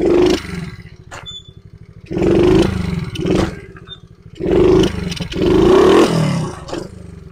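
A pit bike engine revs in repeated loud bursts during a wheelie, the throttle rising and falling between roaring peaks and idling dips, close and harsh with faint rattling and no talking.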